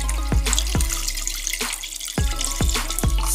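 Water pours into an Instant Pot for beef stew, a steady splashing, running stream punctuated by several sharp knocks and clunks, close and fairly loud.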